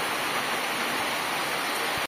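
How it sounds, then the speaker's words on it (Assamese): Rain falling in Assam, a dense, even hiss of steady rainfall close by and fairly loud, unbroken for about two seconds before cutting off abruptly. "আহি গ'ল বৰষুণ আহি গ'ল"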